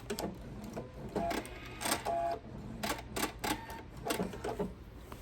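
A sewing machine stitches off the corner of a fabric tree skirt in short rapid bursts of needle clatter separated by brief pauses, close and moderately loud.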